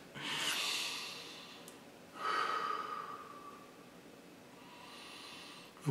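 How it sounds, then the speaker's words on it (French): Several deep, slow breaths drawn in and let out during a guided emotional exercise, each a long airy rush with soft pauses between, close and fairly loud with no talking. "on va prendre quelques bonnes respirations"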